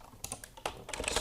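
Quick, light keystrokes on a computer keyboard, a short run of close, crisp clicks in an otherwise quiet room.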